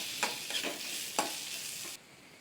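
A spoon stirs onions, green chilli, garlic and crushed ginger in a hot pan, with a soft sizzle under several scraping strokes, and the frying hiss drops off near the end.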